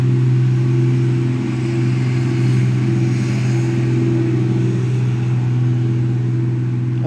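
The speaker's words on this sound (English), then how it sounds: "Loud tractor passing." A tractor rumbles past close by, its loud, steady engine drone holding throughout with no talking.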